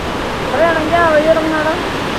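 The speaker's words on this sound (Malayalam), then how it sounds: "വെള്ളം ഒഴുകി പോകുന്നു, സ്റ്റെപ്പ് ഉണ്ടാക്കി വെച്ചേക്കുന്നു" Water rushing steadily down built steps at a hillside viewpoint in Chikmagalur, a continuous near wash with a brief voice or tone rising over it midway.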